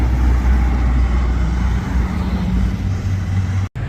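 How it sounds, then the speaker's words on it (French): A Ferrari Portofino convertible with its top down rolls up on a city street, giving a steady, fairly loud engine drone that blends with the traffic around it. "Petite Ferrari Portofino qui arrive. Mode décapoté parfaite pour la météo."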